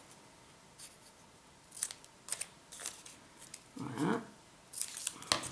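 Scissors snip through cardboard while making a cardboard tissue box, a few sharp crunchy cuts spaced apart at close range, with a brief word spoken.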